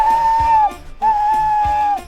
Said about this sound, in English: Poor James disappeared under the bridge, whistling for help.